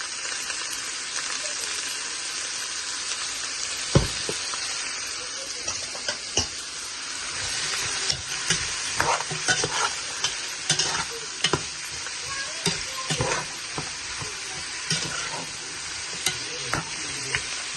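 Garlic, ginger, bay leaf, onion and sauce fry in hot oil, a constant sizzle with repeated scraping stirs and clatter building toward the end, close and moderately loud.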